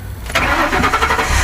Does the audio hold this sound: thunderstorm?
no